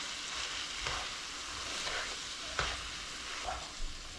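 Onions and peppers seasoned with kosher salt and pepper sizzle in a hot pan for a sloppy joe pasta bake, a steady close frying hiss with several soft stirring scrapes spaced across it and no talking.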